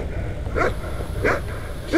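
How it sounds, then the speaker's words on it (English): Dog barking in The Cave video game, three short barks spaced evenly over steady background music, moderately loud and close. "Please stop barking."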